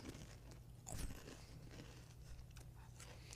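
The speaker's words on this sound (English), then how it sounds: "it says it's a rich brownie taste with a cookie crunch" A brownie-flavored snack with a cookie crunch is bitten and chewed close up, one loud crunch followed by quieter crackly chewing, with faint room noise and no talk.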